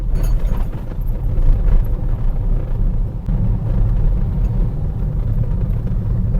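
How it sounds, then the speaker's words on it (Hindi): Steady low road rumble inside a moving Tata Altroz CNG with 67,000 km, going over speed bumps, with faint rattles from the rear of the cabin throughout, no speech. "पीछे से भी कुछ रैटलिंग की आवाज आ रही है"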